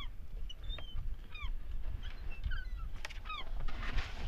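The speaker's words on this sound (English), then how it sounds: "watching these birds doing their thing" Geese or similar waterfowl honk and call repeatedly at an ice fishing spot on Sturgeon Bay, several overlapping calls at moderate distance over steady low outdoor rumble.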